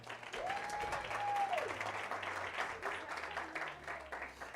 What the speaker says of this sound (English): Ladies and gentlemen, a big round of applause for Sbu.